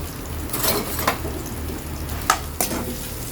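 Small shallots frying in coconut oil make a soft steady sizzle with a few spatula scrapes and taps against the pan.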